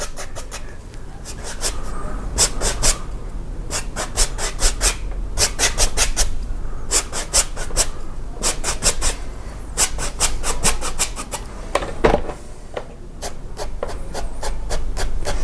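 A dry, soft paintbrush works acrylic paint across canvas in a beach painting, making a close, rhythmic scratchy rubbing that comes in quick repeated strokes, clustered in bursts with short pauses between.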